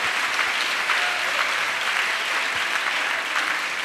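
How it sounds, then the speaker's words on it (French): A church congregation gives a clap offering during a prayer service for the nation, producing a full, steady roar of many hands clapping close by, unbroken for the whole stretch. "Clap offering to Jesus."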